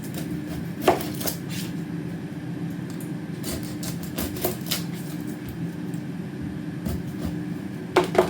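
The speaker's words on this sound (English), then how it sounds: "So it's chop each half into quarters and separate the layers." A kitchen knife chops a peeled onion into quarters on a cutting board, giving irregular sharp taps against the board over a low steady background hum.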